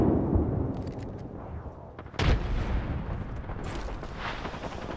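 Gunfire and a frag grenade in the battle royale shooter Apex Legends during a fight, with a sharp explosive burst at the two-second mark among continuous rumbling combat noise.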